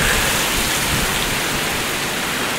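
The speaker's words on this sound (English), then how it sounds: "I don't think I've ever filmed a video in the actual rain" Steady rain falls outdoors in Northwest Arkansas, a dense, even hiss of drops on surfaces that holds constant throughout with no voices.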